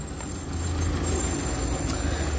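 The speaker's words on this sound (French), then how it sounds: "Attendez, il y a une voiture qui passe." A car passes on a residential street, a steady low rumble of engine and tires that fills the short stretch at moderate loudness with no talking over it.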